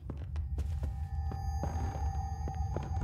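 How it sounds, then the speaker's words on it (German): In the horror game Ghost Exile, a heartbeat thumps in a steady low pulse, several beats alongside a faint hum and scattered knocks, with no talking over it. "Der Herzschlag?"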